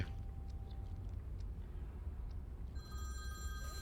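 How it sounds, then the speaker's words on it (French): A public telephone rings with bright, metallic bell tones that start late in the clip, moderately loud over a steady low rumble of ambient noise. "Toi qui es dedans, t'entends un téléphone public."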